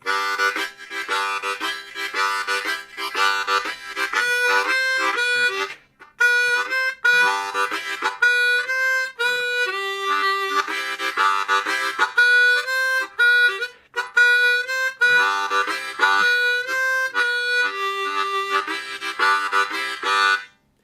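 A harmonica plays a rhythmic, chugging pattern of pulsing chords with short breaths between phrases, steady and close, with no voices.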